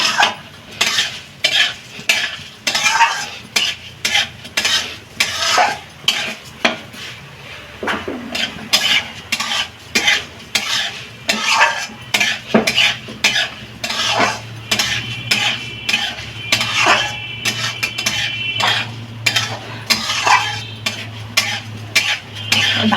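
Moong dal stirred and dry-fried in a pan for a navaratna dal, with a spatula scraping and clattering against the metal in quick, irregular strokes over a soft, steady sizzle, close and fairly loud throughout.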